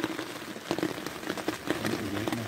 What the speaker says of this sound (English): Right, it's pouring the rain.